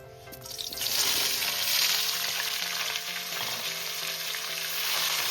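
Nigella seeds, dried red chilli and chopped raw tomatoes fry in hot oil in a pan, giving a loud, continuous close sizzle with a steady crackling hiss that swells slightly after the first second.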